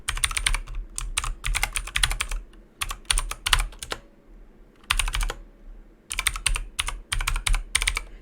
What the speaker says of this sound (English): Typing our password of log4shell